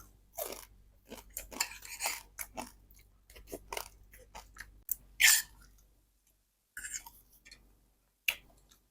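Someone chewing crispy food, dried catfish in a radish curry, close and crunchy, with irregular bursts of bites and crackles separated by brief quiet pauses and no talking.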